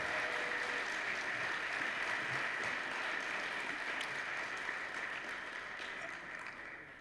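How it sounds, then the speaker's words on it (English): Sustained applause from a high school assembly audience honoring the seniors, a dense steady wash of clapping that fills the room and fades slightly toward the end. "let's give our seniors a round of applause"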